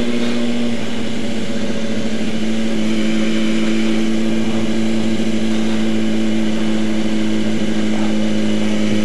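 A motorcycle engine idles on choke, a loud, steady droning hum with a constant pitch, heard up close without voices.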